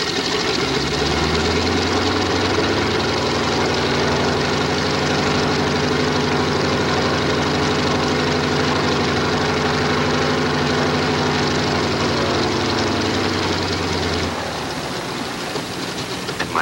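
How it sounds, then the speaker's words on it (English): Radial engine of a BT-13 training aircraft idling and running up before takeoff, a loud, steady, throbbing drone close by that drops off near the end. "Clear my engine and check my mags before I take off."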